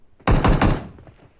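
A short burst of several rapid gunshots in PUBG on the Livik map, loud and close, ringing out alone after a moment of near silence and then quickly fading.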